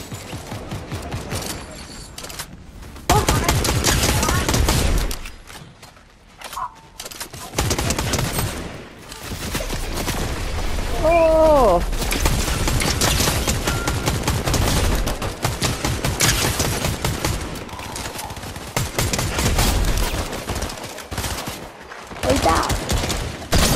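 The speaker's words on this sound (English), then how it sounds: "Because you can shoot." Fortnite Chapter 5 gameplay is full of loud bursts of automatic gunfire and rapid volleys of shots, broken by short gaps, with players talking over the action throughout.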